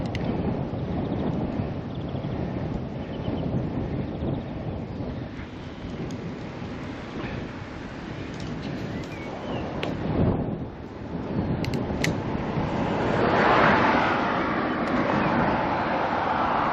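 Strong wind buffets an open microphone during an outdoor ride in Denmark, a continuous low roaring rumble that surges and eases in gusts, loud and close throughout with faint talk beneath.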